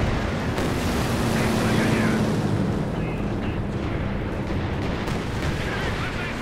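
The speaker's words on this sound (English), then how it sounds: "Finally, the rocket strafe goes in." A rocket strafe pounds the ground in Company of Heroes 2, a dense, loud, continuous rumble of overlapping explosions and crackling blasts with a commentator's voice faintly underneath.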